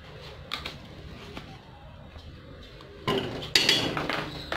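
A metal cooking pot is handled while a spoonful of butter is added, giving scattered light clinks and taps, then louder clattering of pot and spoon near the end.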